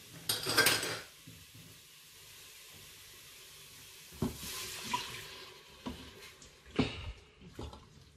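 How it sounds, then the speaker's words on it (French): Water pours into a Cookeo multicooker pot, a short splashing burst at the start followed by quieter stirring clinks and scrapes of a utensil against the pot. "Et là, on rajoute l'eau."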